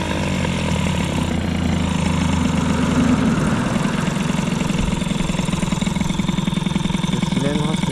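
A scooter engine idles steadily and close by, its uneven putter continuing throughout while a person talks over it.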